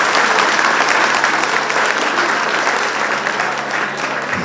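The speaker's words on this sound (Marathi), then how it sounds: "सर्वप्रथम मी आपले जे शिक्षक आहेत या शिक्षकांकरता एकदा आपण परत एकदा जोरदार टाळ्या वाजवूया" Loud, sustained applause from an audience honouring teachers at a school exam event, dense clapping filling the whole stretch and cutting off abruptly at the end.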